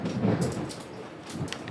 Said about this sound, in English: we're in the middle of a thunderstorm in case you can't hear that.